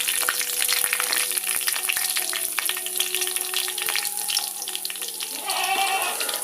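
Dried red chilies dropped into hot oil with browned shallots, crackling and spitting in a continuous dense sizzle, close up, with sharp pops scattered throughout.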